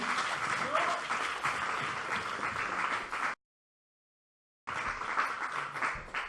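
Loud, sustained applause and cheering from a crowd at a youth poetry slam, broken by a short silent gap before the clapping resumes just as strongly.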